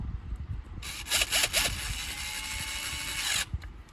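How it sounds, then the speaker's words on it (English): A power drill driving a screw runs steadily for a few seconds at low speed, with a couple of brief revving bursts at the start, then stops. "You'll notice I'm using my drill very slowly."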